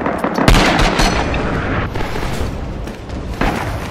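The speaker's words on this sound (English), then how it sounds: "Enemy artillery left flank." In a war video game, artillery fire lands as a sequence of heavy booms and sharp gunshot cracks, loud and close, with rumbling battlefield noise between impacts.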